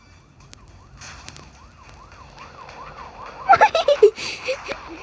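A police car siren in the GTA video game wails in steady rising-and-falling sweeps across the clip, joined near the end by a burst of louder, sharper tones.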